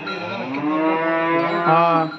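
A cow at a cow shelter lets out one long, loud, close moo that rises and swells toward the end, with no voices over it.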